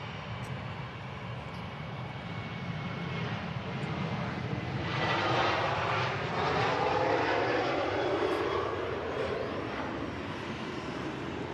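A fixed-wing airliner departs on the main runway at Manchester Airport, its engine roar steady and broadband, swelling to a peak midway and holding loud as it climbs away.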